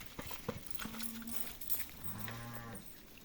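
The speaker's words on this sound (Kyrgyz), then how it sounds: "Ушундай козу кочкорлор." Lambs and rams at a livestock market, with faint bleats and animal calls among hoof clatter and background bustle at a distance.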